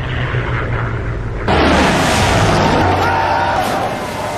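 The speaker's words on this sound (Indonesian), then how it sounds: "meriam-meriam peluru kapal-kapal perang menembaki Gunung Suribachi dari kejauhan" Warship cannons shelling Mount Suribachi from a distance in a war film, a loud, dense rumbling barrage that swells abruptly midway into a heavier roar with low booming undertones.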